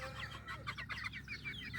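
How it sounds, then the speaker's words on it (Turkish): Young white Ayam Ketawa chickens, about 80 days old, cluck and chatter softly in a quick, continuous stream of short calls close by, with no talk. "Gülen horoz diye tabir ediliyor."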